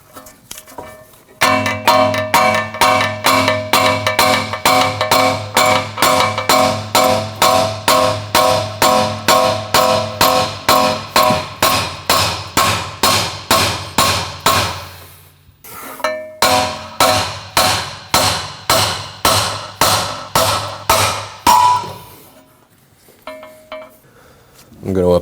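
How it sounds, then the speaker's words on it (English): Hammer tapping the top of a Honda Pilot steering knuckle, a long run of evenly spaced ringing metallic taps up close, briefly pausing once before a second quicker series that trails off. "while I'm supporting the knuckle from the bottom, I'm going to give the top of the knuckle a few taps"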